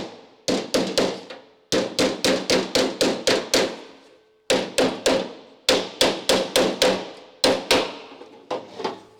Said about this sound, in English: folding over skins, I just like to do them with the hammer and dolly